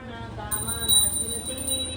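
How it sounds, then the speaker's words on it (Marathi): A small bell rings out clearly, a bright sustained tone with a couple of quick strikes, over low background murmur. "घंटी वाजव"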